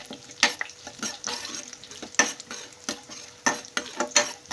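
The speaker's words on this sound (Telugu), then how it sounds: "ఈ విధంగా ఎండుమిరపకాయలని వేసుకున్నాక 1 నిమిషం పాటు ఫ్రై చేసుకోండి" Dried red chillies and tempering seeds fry in oil for an instant rasam, a soft crackling sizzle broken by sharp, uneven bursts of spluttering and stirring clatter, fairly close and fluctuating in loudness.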